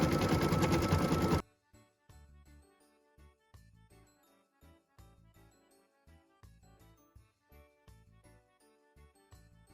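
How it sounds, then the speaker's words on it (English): Embroidery sewing machine stitching a petal design for a Christmas ornament, a short loud burst at the start then a steady run of rhythmic mechanical stitching pulses, close and fairly quiet, with no talk. "we're going to go ahead and let the machine stitch it"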